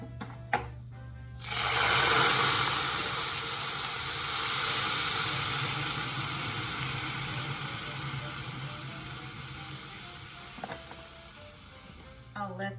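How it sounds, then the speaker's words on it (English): Whole milk hitting a pan of toasted vermicelli noodles bursts into a loud, steady sizzle and steamy hiss that slowly eases over several seconds, close up and with no talking. "Here is where I'll add in my whole milk to steam this."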